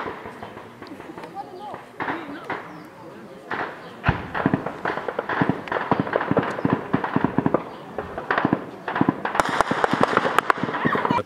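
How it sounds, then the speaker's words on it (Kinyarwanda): Gunfire from fighting near the Democratic Republic of the Congo border cracks in sharp, irregular bursts, some near and some farther off, while people talk and move about. "amasasu ibyo mwumva ntabwo ari inkuba ni amasasu"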